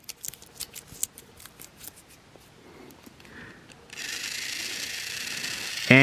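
Once the switch is freed of tape, a battery-powered toy train engine starts with a steady, close motor whir. Scattered sharp clicks and handling noises come first.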